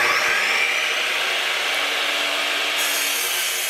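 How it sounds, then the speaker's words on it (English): A Bosch GCM12SD dual-bevel sliding glide miter saw cuts a 45-degree angle through plywood with a loud, close, continuous whine and rasp of blade through wood that stays steady for the whole few seconds, with no talking. "just take a piece of plywood and try cutting a 45 on that"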